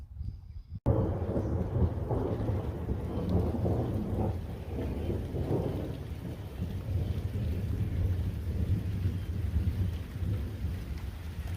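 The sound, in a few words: thunderstorm with rain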